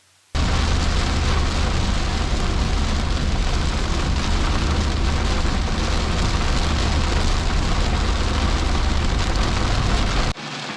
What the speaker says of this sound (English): When it started raining even heavier, Tim turned on the radio